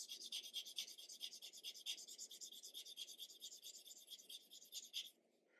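Dry rhythmic rasping of 600 grit sandpaper rubbing on hard, brittle plastic model kit parts from an Airfix 1/72 B-17G, close and steady strokes for about five seconds before stopping.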